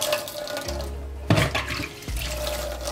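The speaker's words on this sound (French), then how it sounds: "on peut rincer avec l'eau froide" Makeup beauty blender sponges rinsed under a running cold tap, a steady close stream of water splashing into a sink with brief louder surges as the sponges are squeezed and moved through the flow.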